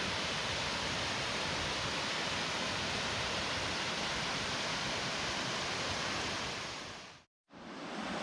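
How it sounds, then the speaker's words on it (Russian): The fourth Luka waterfall in a Crimean pine-forest gorge, heard from close by as a steady, loud, broadband rush of falling water. A brief total dropout interrupts the roar near the end. "Вышли к последнему водопаду"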